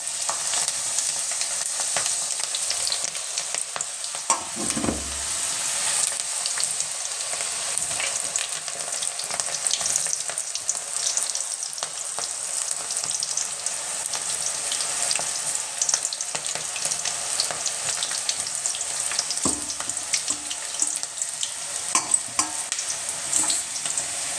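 Butter pakoda deep-fries in hot oil with a dense, steady crackling sizzle that stays even throughout, with a couple of faint low thumps from the pan.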